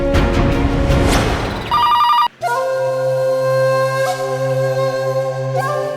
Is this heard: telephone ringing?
yes